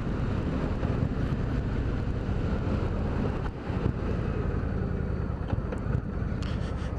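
Steady, loud wind roar buffets the microphone as a rider cruises on an Indian Springfield Dark Horse motorcycle in a side wind, a continuous broadband rush with no talking.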